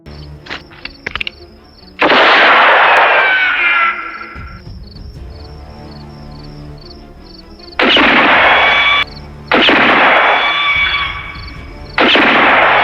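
Gunfire as two gunmen show off their shooting skills: sharp, loud shots come in bursts, several early cracks then sustained volleys with ringing tails, separated by quieter ambient stretches.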